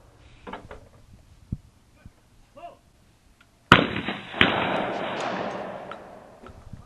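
Shotgun fired at clay targets thrown from a trap, with a few faint knocks and clicks before one sharp loud blast and a second shot quickly after, each trailing off into a long echoing rumble.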